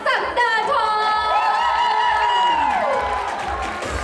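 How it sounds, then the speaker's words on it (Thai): An audience cheers and applauds for Nat Sakdatorn on stage at a birthday charity event, a loud, sustained crowd sound with whoops and high shouting that fades slightly toward the end. "ปรบมือให้กับพี่นัทศักดาทอง"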